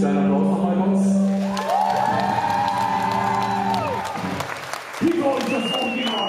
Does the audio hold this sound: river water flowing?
no